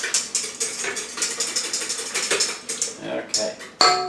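Yeast bread ingredients being mixed in a bowl for homemade bread: a steady run of light clinks and scrapes of utensil against the bowl, close and fairly quick, ending in a sharper knock.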